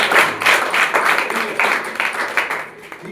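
A group claps by hand in a rhythmic pattern, quick bursts of claps repeating at a steady pulse, fairly close and loud, with no talking over them.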